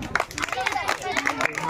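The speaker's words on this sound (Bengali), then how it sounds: "জোরে হাততালি হবে।" An audience clapping loudly at a children's game of keeping balloons in the air while carrying potatoes to buckets, with quick uneven claps mixed with crowd chatter and voices.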